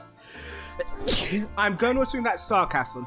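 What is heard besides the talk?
sneeze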